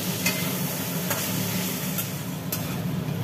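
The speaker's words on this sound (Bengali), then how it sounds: "এদিকে আলুগুলো ভাজা চলছে।" Chopped potatoes fry in a pan for a vegetarian poppy-seed dish, giving a steady, close sizzle broken by a few brief scraping stirs.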